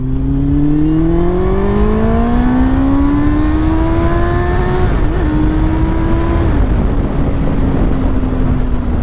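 A Yamaha FZ1 Fazer 1000 motorcycle engine revs up steadily with rising pitch while accelerating, holds high, then eases slightly, continuous and close with no talk.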